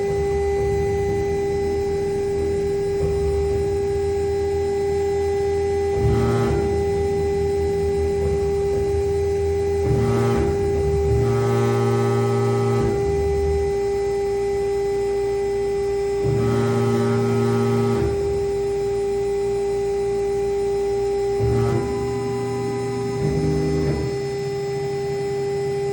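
Laguna Swift CNC router cutting a zigzag offset pocket, a loud steady high spindle whine held throughout, with recurring bursts of lower cutting noise as the tool moves through the workpiece.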